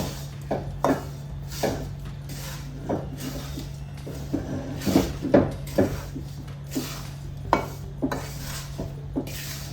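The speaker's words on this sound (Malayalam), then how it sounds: "ഇതെല്ലാം നല്ലപോലെ ഒന്ന് മിക്സ് ചെയ്യാം" A spoon scrapes and knocks steadily against a pan while stirring a chickpea flour burfi mixture with ground nuts, making repeated close scraping strokes with a low steady hum behind them and no talking.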